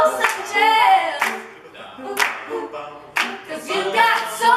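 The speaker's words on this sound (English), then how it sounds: "Everybody clap your hands." An audience at a live performance of a soul song claps hands together in a few loud, spaced bursts, with singing voices between the claps.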